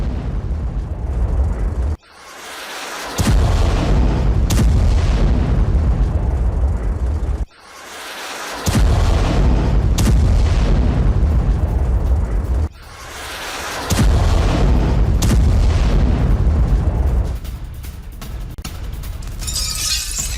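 Loud, harsh blasts and roaring rumble from a Russian missile attack on Kyiv in the early morning, coming in several long bursts separated by brief drops, distorted and overwhelming with no voices.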